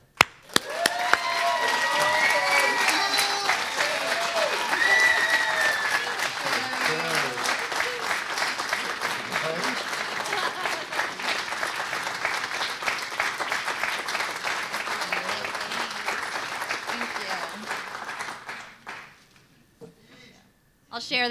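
Sustained applause from a crowd at an alumni awards ceremony, steady clapping that continues for many seconds before tapering off near the end.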